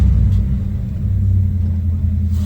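A 1973 Dodge Charger engine rumbles steadily and close, a deep, loud throb that holds nearly constant with only slight swells in pitch, and no voices over it.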